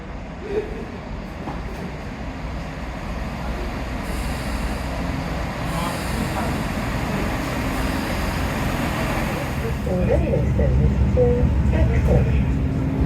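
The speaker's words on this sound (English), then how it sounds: "Happy train. Tooting at Rufus." A train rolls past a sunny seaside station in Dawlish, a broad rumbling wash that swells toward the end, with faint horn-like toots amid the noise.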